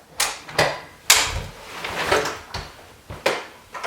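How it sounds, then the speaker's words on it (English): A BabyZen YOYO+ stroller is folded up with one hand: a string of sharp, close plastic-and-metal clacks and snaps spread unevenly over a few seconds, with soft rattles and rustles in between and no talking. "you can use your one hand and fold up the stroller"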